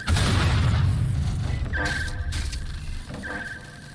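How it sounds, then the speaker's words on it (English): A frag grenade blast in Watch Dogs: Legion: a loud, heavy low boom with broad rumble that decays over a few seconds, followed by shrill ringing tones and faint debris noise. "Deploying a frag!"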